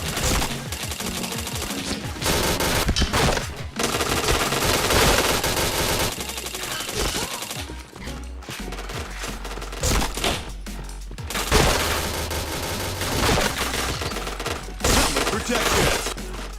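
Dense, loud gunfire from a shooter video game, rapid automatic bursts and repeated shots stacked with impact and shattering effects, nearly continuous for the whole stretch.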